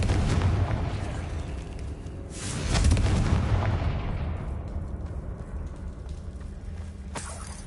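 Blasting fire-spell explosions boom in a Harry Potter game on PlayStation 5, a heavy roaring burst swelling midway and then rumbling away with a sharp crack near the end, loud and with no talking.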